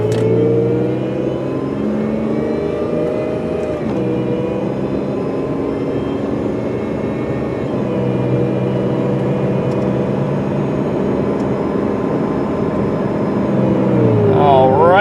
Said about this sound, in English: we're just going to pull out here and accelerate up to about 50-55 miles an hour